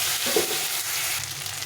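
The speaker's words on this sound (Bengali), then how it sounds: "এটাকে ভালো করে একটু ভেজে নিতে হবে" Chopped tomato and green chilli fry in a pan with nigella seeds and a pinch of salt while a light fish curry is being cooked. A steady, close sizzle carries through without a break, and no one speaks.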